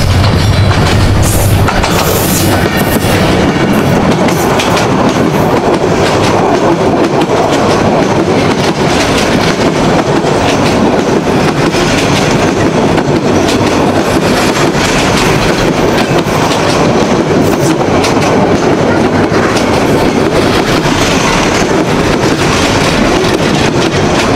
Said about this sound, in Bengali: এখন এখানে একটা ট্রেন আসছে। ট্রেনটা লোকাল হতে পারে বা হতে পারে এক্সপ্রেস ট্রেন